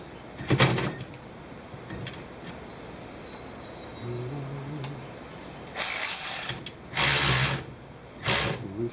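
Ratchet clicks while loosening a bolt on the rear shock of a 2013 Can-Am Spyder RT-S, arriving in a few short bursts of rapid ratcheting with quiet gaps between, close and fairly loud.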